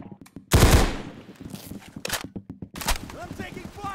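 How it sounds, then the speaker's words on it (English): Gunfire in the Unit: Classified shooter game, sharp loud shots bursting in rapid, irregular volleys close by, with a voice talking between the bursts. "I'm taking fire!"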